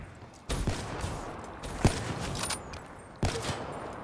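Video game gunfire comes in a few sharp broadband bursts against a steady noisy background, with a single crack in the middle and another burst near the end, with no voices.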